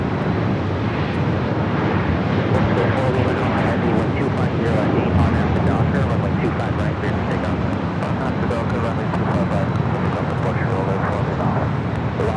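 A jet airliner takes off from runway 25 right on the south side of Los Angeles International Airport, a steady loud broadband roar with wind buffeting the microphone, sustained throughout without a break.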